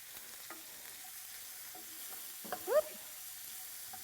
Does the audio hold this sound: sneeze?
no